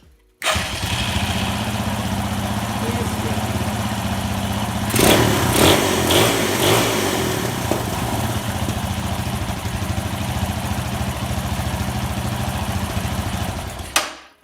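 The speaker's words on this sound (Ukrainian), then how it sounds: "Відстрілює в нас у вихлоп." A Viper V250VXR motorcycle with a 169FMM engine idles steadily, with a cluster of sharp popping backfires into the exhaust midway before settling back into its even running.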